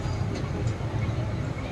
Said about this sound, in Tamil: so முண்டியம்பாக்கம்லேருந்து train கிளம்பிச்சு